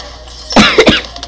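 A single person coughs twice in quick succession, close and loud, with a rough, throaty burst, set against faint background noise while playing Bloons TD Battles.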